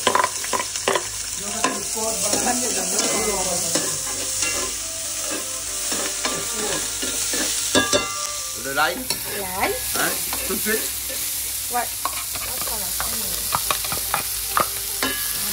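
Onions fry in a pan at a home grill evening, a steady sizzle running throughout beneath lively, overlapping voices and occasional clinks, the cooking noise fairly close and constant.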